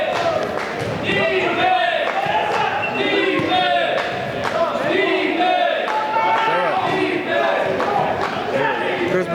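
A home crowd yells at a wheelchair basketball game in an arena: a steady roar of cheering and shouting, with squeaks and court noise, and a commentator talking over it.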